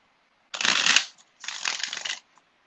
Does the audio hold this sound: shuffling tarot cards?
yes